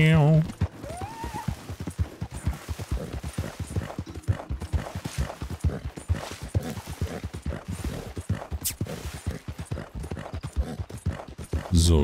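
Horse hooves clip-clop in Red Dead Redemption 2 as a rider travels along, a steady close rhythmic beat of hoofbeats running through the whole stretch, with a brief whinny near the start.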